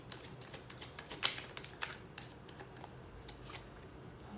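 Tarot cards shuffled by hand in a quiet room, a run of soft, quick papery riffles and taps at close range, with small irregular clicks and no talking.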